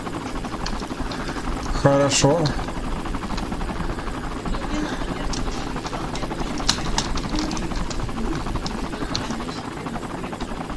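Helicopter rotor chop in the video game Sniper Ghost Warrior 3, a steady mechanical drone running through the whole stretch beneath a voice speaking, with a brief burst of extra noise early on.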